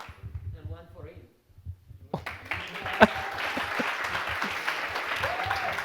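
Someone speaks briefly before a conference audience at a web developers' event breaks into applause, which swells and carries on steadily to the end.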